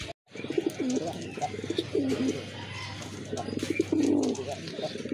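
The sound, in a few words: pigeons cooing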